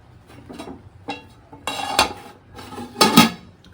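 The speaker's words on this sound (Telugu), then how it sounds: "అప్పుడు మూత పెట్టేద్దాం." A metal lid goes onto a pot of layered Telangana-style bagara rice, with several sharp clanks and rattles coming in bursts close by in an otherwise quiet room. No one speaks.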